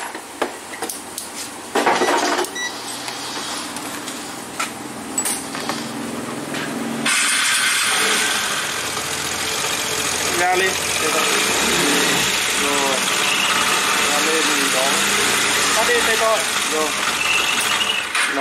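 A Piaggio Liberty 3V ie scooter being checked for its charging voltage starts up and settles into a steady idle, with metallic tool clatter at first and someone speaking over the running engine.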